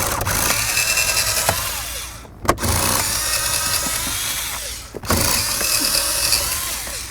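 Power tool at work on the glove box mounting bolts of a 2005-2016 Ford Mustang, loud close whirring bursts separated by two short pauses.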